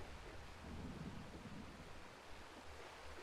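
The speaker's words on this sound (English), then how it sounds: "Dang rain." Steady rain with low rumbling thunder in the N64 role-playing game Aidyn Chronicles, a continuous wash of noise with no talking.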